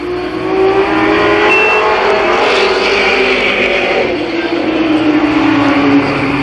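Midget race cars at Columbus Motor Speedway, an All American Midgets event, roar past in a loud, continuous engine drone with shifting pitch as several cars race by together.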